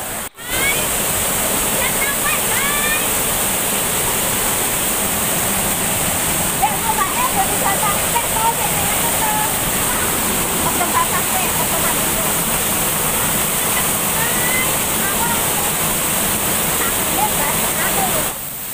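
A steady, roaring rush of the Gedung Gubet waterfall near Ngancar, Plaosan, Magetan fills the scene without a break, loud and close, with faint bird chirps threading through the noise.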